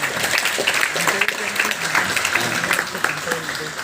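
Applause from a college audience at a motivational talk, steady clapping lasting several seconds with voices mixed in underneath.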